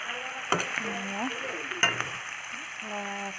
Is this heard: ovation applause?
no